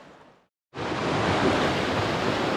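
A fast-flowing river torrent at high water on a trout stream, with a close, steady rushing roar that starts abruptly after a brief silence and continues evenly.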